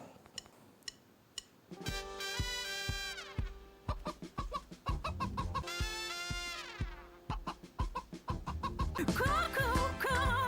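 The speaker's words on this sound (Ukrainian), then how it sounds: "Тут живуть курочки і півничок. Вони живуть у курнику." Chickens cluck and squawk close by in a steady chorus of rhythmic, repeated calls, with a few drawn-out cackles rising over the pecking clucks.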